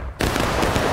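A musket volley in a multiplayer line-battle video game sets off a sudden dense crash of massed gunfire that rolls on as a loud continuous roar after a brief quiet moment.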